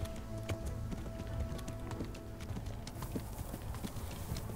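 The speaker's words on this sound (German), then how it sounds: "Deshalb reiten wir jetzt hier durch" Horse hooves galloping in Kingdom Come: Deliverance, a steady rapid clip-clop held throughout at moderate loudness under a faint sustained tone.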